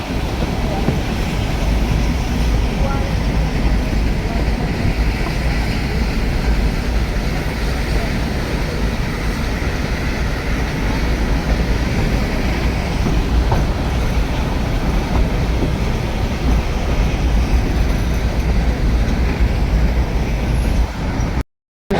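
The Ooty toy train, running from Udagamandalam to Mettupalayam, makes a loud, unbroken rumble with rattling wheels and carriages heard from on board, steady for the whole stretch.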